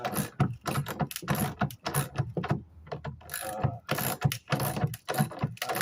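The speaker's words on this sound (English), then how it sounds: "an air compressor with an air gun, and you can do it with the hand" Pneumatic air gun driving a bolt into wood framing with tornado straps, giving repeated loud ratcheting bursts with short pauses between them, close by.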